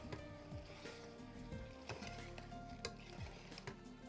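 Paneer ularthu is stirred with garam masala in a pan. A faint, continuous sizzle of frying runs underneath repeated soft scraping strokes of the spoon, with no talking.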